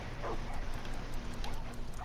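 Dogs yelp and whimper in the Far Cry 5 video game, a few brief cries over a continuous layer of game ambience.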